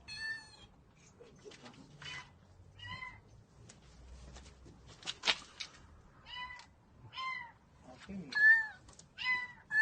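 A cat meows repeatedly from inside a car's engine compartment, a string of short, fairly faint cries at irregular intervals, with quiet background voices and some handling noises.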